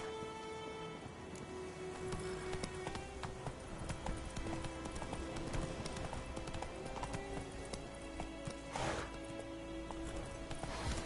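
Roach, the horse in The Witcher 3, trots along with continuous clip-clopping hooves at moderate volume over quiet ambient game sound, with a brief burst of noise midway.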